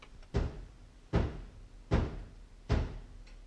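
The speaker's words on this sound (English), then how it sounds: "He's knocking, isn't he?" Knocking heard from upstairs in a house, four evenly spaced heavy thuds about a second apart, muffled and resonant as if through a ceiling, with no voices.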